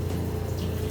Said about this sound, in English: Flushing with fresh water.